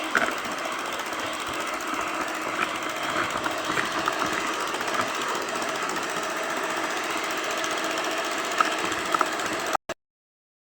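Eggs being beaten for ammonia biscuit dough with an electric mixer, a loud continuous close whir that runs steadily and then cuts off abruptly at the end.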